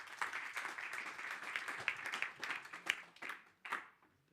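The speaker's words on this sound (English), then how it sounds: "A big round of applause." Audience applause and clapping at an evening research presentation on technology and healthcare, a steady round of hand claps lasting about four seconds before tapering off to quiet.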